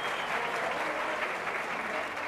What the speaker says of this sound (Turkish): Mehmet Arı alkışlar eşliğinde.